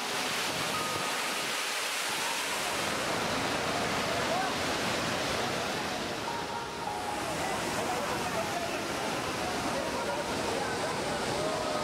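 Lauke waterfall, a roughly 120-metre cascade in Nuwakot, Nepal, gives a steady broadband rush of falling water, continuous and moderately loud, with a narrator speaking over it.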